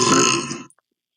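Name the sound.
burping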